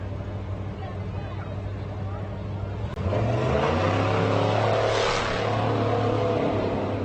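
An SLR off-road race truck idles at the starting line of the SCORE Baja 400, then a deep engine rumble swells into loud revving close by, with crowd noise and chatter mixed in.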